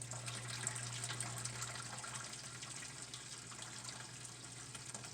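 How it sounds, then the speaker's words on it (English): Water from a Whirlpool dishwasher under repair drains out steadily, a continuous gushing, tap-like flow with a low steady hum beneath it, loud and unbroken throughout. "Water is running out, which it wasn't doing before."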